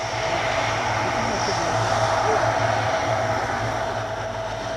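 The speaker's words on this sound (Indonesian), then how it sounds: "Pesawat Hercules TNI Angkatan Udara yang mengangkut ribuan alat pelindung diri dan masker Jumat sore tiba di landasan Pangkalan Udara Suwondo, Medan." Indonesian Air Force Lockheed Hercules transport plane arriving on the runway at an air base in Medan, a steady loud propeller-engine roar with no breaks.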